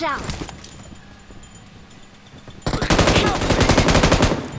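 Gunfire in the PUBG Mobile video game: scattered shots at first, then a loud sustained burst of rapid automatic fire, with someone talking over it.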